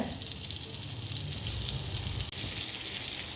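Butter melting and frying in a pan while cooking paneer chicken rice, a loud, steady sizzle with fine crackling that continues without a break.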